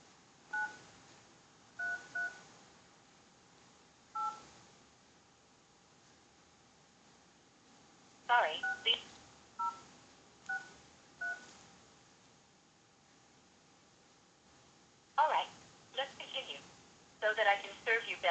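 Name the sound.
telephone keypad dialing tones (DTMF)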